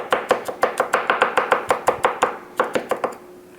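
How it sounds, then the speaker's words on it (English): A knife chops garlic on a cutting board in quick, steady strokes, about sixteen sharp, close, loud knocks in a fast rhythm, then a short pause and a few more chops. "And just keep chopping"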